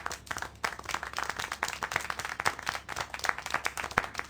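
Scattered applause and clapping in the video game Syberia: The World Before, a quiet, steady patter of many hands with irregular sharp claps, fairly faint and without voices.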